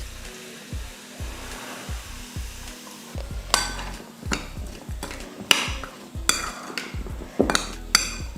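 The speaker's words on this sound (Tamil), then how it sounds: "இப்போ இதை ஊறுகாயில் ஊற்றிடலாம்." Hot tempering of oil with garlic and asafoetida poured onto an instant pickle gives crackling sizzle bursts, mixed with spoon and vessel clinks, close and moderately loud.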